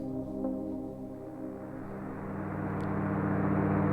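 Dusty, hazy synth pad played on an Ableton Push 3 in an ambient live setup, a sustained low, droning chord that swells slightly louder toward the end, soft and continuous with no talking.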